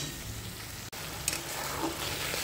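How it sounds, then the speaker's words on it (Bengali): Chopped tomatoes sizzle and fry in hot oil in a pan while being sautéed for a paneer do pyaza, a close, steady crackling hiss with one brief break and a small clink of the spoon partway through. "চলো এবার টমেটোটা দিয়ে আর একটু ভালো করে কষে নিই"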